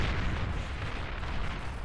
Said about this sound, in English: if the snipers are firing at radar blips, they will not be very accurate